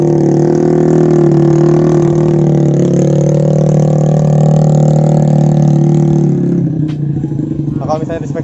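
A loud, deep Honda New Beat scooter engine with an aftermarket CLD exhaust drones steadily up close with a rumbling throaty tone, then drops off near the end as clattering noises take over.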